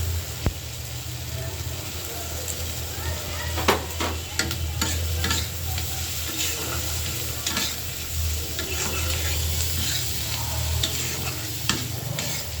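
Onions and green chillies fry in an iron wok with a steady, loud sizzle and crackle. Scattered stirring scrapes and clicks sound close by, and no one talks.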